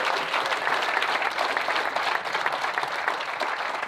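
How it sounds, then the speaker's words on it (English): Steady audience applause for a guest panel at a Q&A event, dense and even throughout with no voices standing out. "let's give these guys a round of applause."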